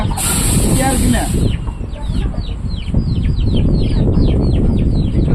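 Chickens and chicks cluck and chirp in quick repeated calls close by, including a three-month-old rooster, with a voice talking over them.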